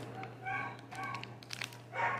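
Several dogs bark and yip in short bursts in a room, close and moderately loud, with a steady low hum underneath.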